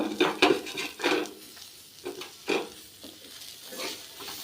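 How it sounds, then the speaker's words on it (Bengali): Food is stirred while frying in oil in a pan, with repeated scraping and clattering strokes of a utensil over a faint, soft sizzle, close and moderately loud. "নাড়াচাড়া করে একটু হালকা নাড়াচাড়া করে হালকা একটু ভাজি হলে আমি এগুলিকে নামিয়ে নেব"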